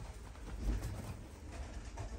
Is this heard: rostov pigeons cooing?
yes